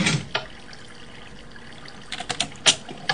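Water running through a Minecraft plumbing puzzle, a soft steady wash with a few brief splashy bursts near the start and toward the end.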